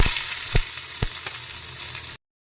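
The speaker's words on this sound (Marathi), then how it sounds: "तेल तापलेले आहे त्याच्यामध्ये मी आता ही मोहरी घेतले घेतली ती घालत आहे फोडणीसाठी" Mustard seeds, cumin and onion frying in hot oil for the tempering of Maharashtrian pithla (zunka), a steady loud sizzle with a few sharp crackles and stirring clatters, ending abruptly.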